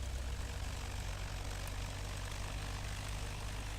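A small plane's engine idles with a steady low rumble and constant hum in a flight simulator game, unbroken and fairly quiet throughout.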